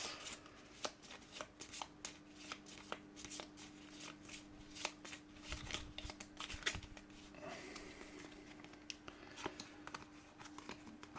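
Aeon's End board game cards are shuffled by hand in repeated riffling bursts and soft snaps, close and quiet, over several seconds.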